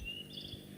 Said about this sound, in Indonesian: Ping Ping, kita banyak mendengar suara burung.